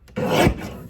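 A paper trimmer slices a sheet of cardstock for a card kit in one short, close rasping stroke.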